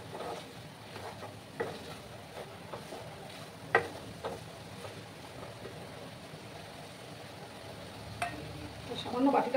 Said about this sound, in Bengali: সেই বেসনটা এবার আমি দিয়ে দিলাম, দিয়ে আবার ভালো করে আমি মিক্স করে নেব